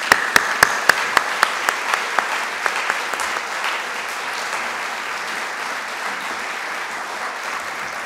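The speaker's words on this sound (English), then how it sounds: "I ask you to please join me in giving him a big round of applause." Lecture-hall audience applause rising after an introduction at a university distinguished lecture, with a few sharp early claps that blend into steady, moderately loud clapping across the room, sustained without talk.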